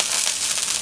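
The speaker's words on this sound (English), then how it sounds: "a good trick is to flick a bit of water on the surface and it should sound like this" Water flicked onto a hot, oiled cast iron pan makes a brief, dense crackling sizzle that holds steady throughout, close and fairly loud, with no voice.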